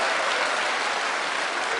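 A church congregation claps together, a dense continuous burst of many hands at even loudness, filling the room without voices above it.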